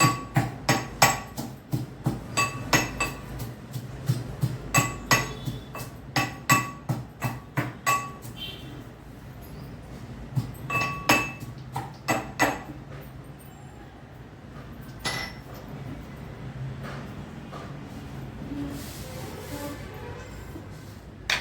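Tempering spices for a ripe red chilli and tomato pickle are pounded in a mortar, with rapid rhythmic metallic clinks in repeated bursts, close and clear, then fewer, scattered strikes toward the end.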